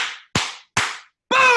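Three sharp group claps on a team call, evenly spaced and each ringing out before the next, followed by a loud burst that cuts off the clip.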